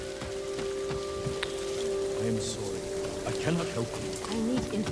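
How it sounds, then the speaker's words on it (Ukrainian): Steady rain hisses across an outdoor scene in the video game Ghost of Tsushima, a continuous wash of falling water with scattered droplet patter, heard under game music tones and intermittent character voices. "Тут дощ іде."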